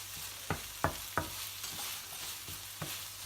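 A spatula stirs sizzling masala for paneer bhurji with spring onion, spiced with Kashmiri red chili powder, in a pan over a low flame: about half a dozen distinct scraping knocks over a soft, continuous frying hiss.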